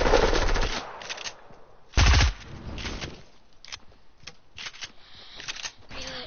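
Weapon fire in a video game comes in two sharp automatic bursts, followed by quieter scattered clicks and shots.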